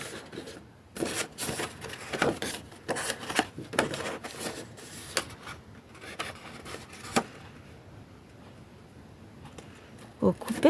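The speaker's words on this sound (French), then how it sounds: "eh bien vous venez avec les ciseaux" Scissors snip paper, rounding off the corners of a handmade gift box, in a series of crisp, irregular cuts with rustling between them. A voice talks quietly under the cutting.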